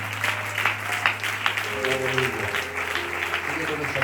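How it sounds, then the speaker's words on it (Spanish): A church congregation applauds during a Spanish-language worship service, with steady dense clapping throughout and a sustained low tone with music-like notes underneath. "Un aplauso para la Santa Trinidad."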